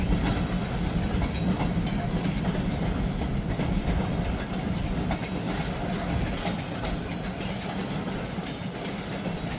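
A freight train passing on rails near Pembine, Wisconsin, a loud, continuous rumble of railcars with rhythmic clickety-clack from the wheels over rail joints, close by and with no voices.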